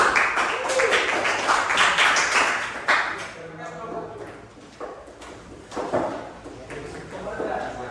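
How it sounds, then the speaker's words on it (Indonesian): Applause for group 3 in a classroom: a burst of many hands clapping fills the room, fading into scattered claps with room murmur and some talk. "kita beri aplaus untuk kelompok 3"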